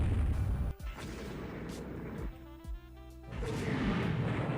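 Naval gunfire from 16-inch guns in the Rule the Waves 3 game: a few heavy booming shots spread over a few seconds against a constant rumbling background, with no talking.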